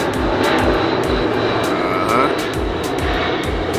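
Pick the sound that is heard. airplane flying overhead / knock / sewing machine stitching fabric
airplane flying overhead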